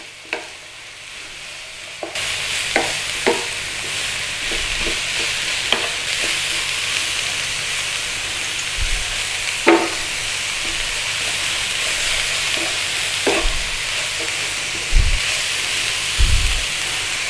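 Cabbage stir-frying in a hot pan for vegetable spring roll filling, a steady broad sizzle with scattered scrapes and clanks of stirring, close and fairly loud.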